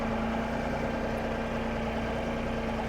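A John Deere 2038R compact tractor engine runs through a regeneration cycle at raised engine speed. It makes a steady, even drone at moderate distance, with no talking over it.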